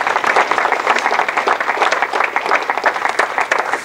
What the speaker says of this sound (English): Can I have a round of applause for Wilson?